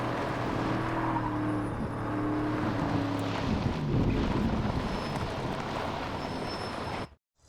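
A 1969 Camaro in a video game cutscene rumbles along with a steady engine drone and wind rush, fairly loud and continuous before cutting off abruptly at the end.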